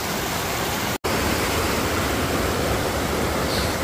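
Canyon Creek rushes in a loud, unbroken roar of flowing mountain water, close by and alone, with one brief dropout to silence about a second in.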